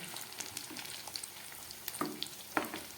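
Chicken pakoras frying in oil, a soft continuous sizzle with scattered pops and a few spoon clinks as they are lifted out.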